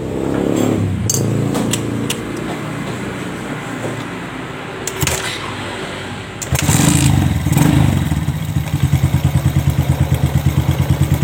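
A Suzuki Shogun 125R motorcycle engine cranks with clattering, catches, and settles into a loud, steady rhythmic idle close by.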